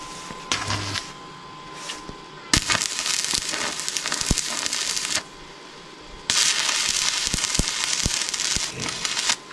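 Arc welding run off a portable solar power station with 2.6 mm electrodes, crackling and sputtering loudly in long bursts separated by brief pauses, with sharp pops within each burst and no talking.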